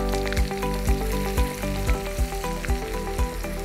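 Ginger paste fries in hot oil as it is stirred, producing a loud, close sizzle with regular scraping strokes of the spoon against the pan roughly every half second.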